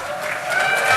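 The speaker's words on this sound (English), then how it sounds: "You should cheer at that point." Audience applause and cheering at a DEF CON 21 hacking conference closing ceremony, a steady wash of clapping from a large crowd that swells slightly toward the end.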